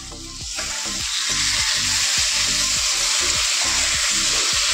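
Curry masala is sautéed in a pan, a loud, dense, steady hiss of frying with rhythmic scraping strokes from stirring, close and continuous, without voices.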